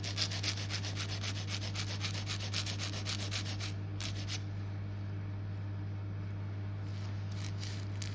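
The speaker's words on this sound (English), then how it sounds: "So file nice and straight on those side walls." An acrylic nail being filed along the side walls, quick rhythmic rasping strokes up close for about four seconds, then fading to quieter scattered rubbing.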